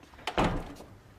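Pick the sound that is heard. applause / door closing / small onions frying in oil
door closing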